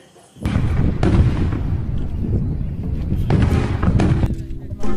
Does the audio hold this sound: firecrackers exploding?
yes